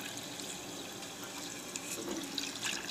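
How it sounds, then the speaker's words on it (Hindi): Water is poured from a tap into a cooking pot for boiling ojri (tripe) in a home kitchen, a steady splashing gush that runs throughout, with no talking over it. "तो पानी हमने डाल दिया है माशाल्लाह।"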